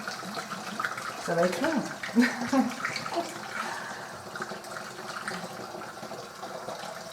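Water is poured into a container while making acacia flower wine with sugar, a soft splashing fill heard fairly close, with a voice speaking briefly over it.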